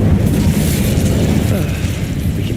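A booming burst of flame from an Incendio spell in the Hogwarts Legacy video game, with loud, dense low rumble that rolls on briefly and stands alone, without talk.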